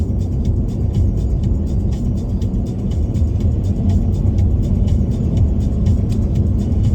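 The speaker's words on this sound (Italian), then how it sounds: "Traffico relativamente intenso in questo sabato 8 ottobre" Steady, dense road roar of heavy Saturday traffic on Italy's A4 motorway near Milan, a continuous loud rumble of tyres and engines heard from a moving vehicle, with no talking.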